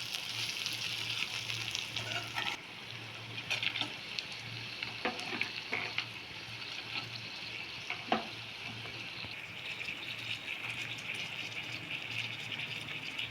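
Chana dal and onions fry in a pan for a coconut chana dal curry, a steady close sizzle broken by occasional scrapes and clicks of stirring.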